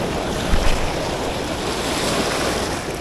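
Rough ocean surf churns and crashes steadily along a shoreline during a fishing outing, with gusting wind buffeting the microphone throughout and a slightly louder wave surge early on.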